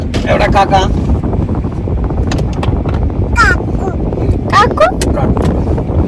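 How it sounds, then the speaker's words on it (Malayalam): Crows cawing near a house under demolition, several harsh caws in short bursts over a constant outdoor background, with a voice talking through much of it. "അപ്പൊ കാക്കൊക്കെ വിളിക്കാൻ തുടങ്ങിയിരിക്കുന്നു കേട്ടോ."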